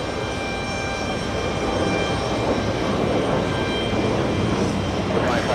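Steady roar of a jet airliner heading to Fort Myers at JFK airport: a loud, continuous engine rush with a faint whine above it, heard without talk.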